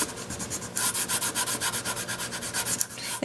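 Painter's tape is rubbed firmly onto Soft Sky card stock in quick back-and-forth strokes, about a dozen rhythmic scratchy swipes close to the microphone with no talking.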